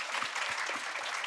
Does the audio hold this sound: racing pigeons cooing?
no